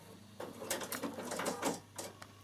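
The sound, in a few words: Bernina sewing machine sewing a stay stitch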